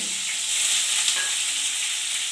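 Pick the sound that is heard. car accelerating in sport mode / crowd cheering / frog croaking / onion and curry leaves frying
onion and curry leaves frying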